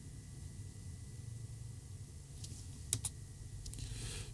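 A computer keyboard that is acting up gives a few faint, sparse key clicks late in the stretch over a steady background hiss, close but quiet.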